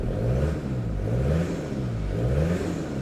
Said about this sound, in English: Lovely 3-liter turbo diesel engine. Switch this off for now